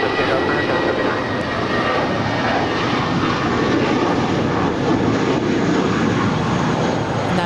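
JetBlue Airbus A320 bound for Salt Lake City taking off from LAX, a loud, steady broadband jet engine roar that holds throughout without letting up.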